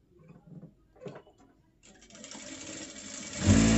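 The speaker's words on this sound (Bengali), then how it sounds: "তাহলে আমাদের সামনের পার্টটাও ঠিক আরেকটা সেলাই দিয়ে দিতে হবে।" Sewing machine stitching fabric, a few soft handling thumps followed by the motor spinning up into a rising, steady mechanical whir that grows louder at the end.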